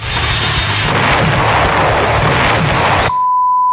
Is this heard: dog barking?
no